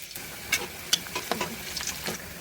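Boiled radish greens frying with garlic in oil in a wok, a soft steady sizzle broken by a few light stirring clinks and scrapes, close by with no voices.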